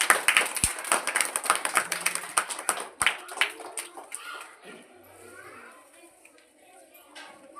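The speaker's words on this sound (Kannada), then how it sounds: "ಚಪ್ಪಾಳೆ." A group of schoolchildren clap together in a dense, lively burst that thins out and fades after about four seconds, leaving quiet room noise with a few voices.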